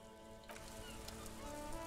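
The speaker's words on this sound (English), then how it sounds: "This rain will not let up anytime soon." Steady rain ambience in the detective game Disco Elysium, soft and continuous with faint droplet patter under a low hum, quiet and unchanging.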